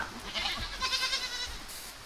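Goats bleating in a farm pen, a close wavering cry that rises and falls for about a second, followed by a shorter call, with light background noise.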